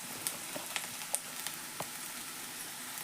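Chopped onion and turmeric powder fry in hot oil with a steady, even sizzle, scattered sharp pops and crackles spiking above the constant hiss, close and fairly quiet with no talking.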